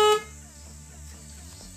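A car horn stuck sounding when the steering wheel is turned, heard as a short, loud tonal blast at the very start that cuts off abruptly, leaving a low droning hum and faint background noise.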